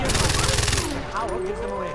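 Rapid gunfire from the video game Far Cry 4, a dense burst of repeated shots with a machine-gun rhythm filling the first second, then fading into quieter game sounds.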